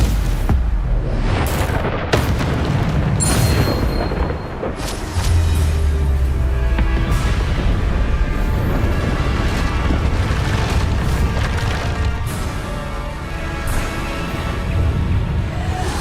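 Bombarda explosion spells in the Hogwarts Legacy video game go off as repeated booming blasts over a dense, continuous wash of game combat noise.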